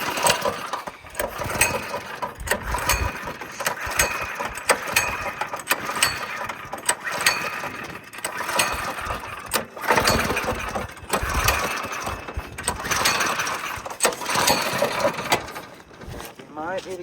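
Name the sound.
small go-kart engine running and idling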